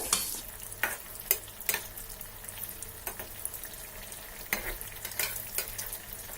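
Oil sizzles and bubbles steadily in a pan over a low flame as banana pieces fry, with occasional clinks and scraping as pieces are stirred and turned; no talking.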